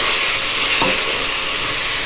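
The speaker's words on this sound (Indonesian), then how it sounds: "Kita tumis-tumis dulu" Spices sautéing in a pan for a chicken feet dish, a steady bright sizzle with a brief stir scrape near the middle, loud and close with no talking.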